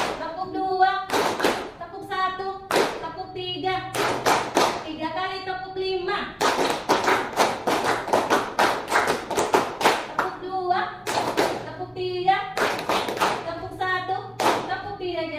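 A group in a teachers' workshop session claps out a counted rhythm pattern. Bursts of loud, sharp claps come in short phrases separated by pauses, and an instructor speaks between the repetitions.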